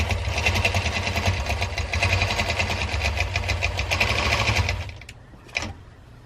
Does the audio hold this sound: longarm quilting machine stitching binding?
yes